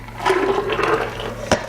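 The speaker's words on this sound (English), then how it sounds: "I'm going to pour this back into the blender" Smooth tomato soup poured back into a blender jar, a thick liquid glug and splash running steadily for over a second, ending with a sharp knock near the close.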